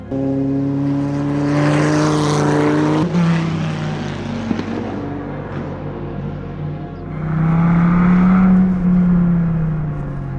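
The 8.4-liter engine of a Dodge Viper GTS-R revs in deep, booming swells, rising and falling twice loud and close, with a brief lull between the pulls.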